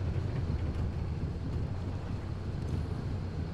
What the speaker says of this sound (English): The engine sounds are very soothing.